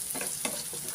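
Onions stir-fried in a pan for a pumpkin masala, cooked until golden brown: a steady close sizzle broken by a few soft scraping stirs, with no talking.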